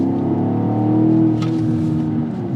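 A BMW X6 M Competition's engine revs loudly and steadily while driving on gravel, a deep sustained roar with rising and settling pitch that fills the whole stretch.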